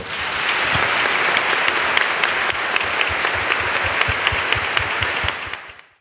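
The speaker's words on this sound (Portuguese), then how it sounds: "Quem é ovelha do bom pastor, aplauda o Senhor" A congregation at a Catholic worship service applauds for about six seconds, steady, dense clapping near and loud that holds level before fading away at the end.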